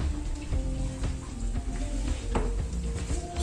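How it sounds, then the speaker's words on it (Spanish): Meatballs fry in hot oil with a steady sizzle and crackle, punctuated by occasional soft clicks and pops, close and moderately loud. "las estoy friendo"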